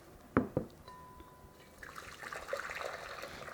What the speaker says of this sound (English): pour some freshly boiled water over it